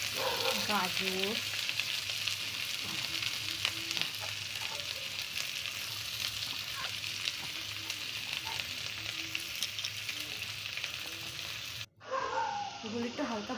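Cabbage and carrots frying in hot oil in a kadai (wok) produce a steady sizzling hiss with stirring. A voice murmurs faintly underneath, and the sound cuts briefly near the end before the frying resumes.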